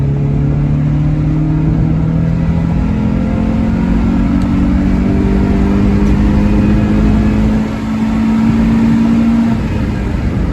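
Honda Civic EJ1 with a swapped K24/K20 engine, converted from automatic to manual, accelerating on the road; a steady, loud in-car engine drone with rising harmonics that climb slowly across the run, no talk.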